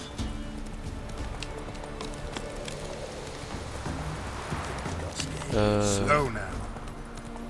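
Horse hooves clip-clopping at a steady run in The Witcher 3, a continuous rhythmic patter with a brief whinny-like burst near the end, while someone talks over it.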